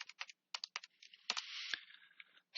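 Quick keypresses on a graphing calculator keypad while entering a precalculus expression, a close, crisp run of small plastic clicks with short pauses between them, no talking.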